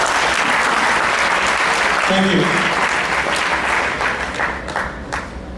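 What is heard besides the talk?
audience applause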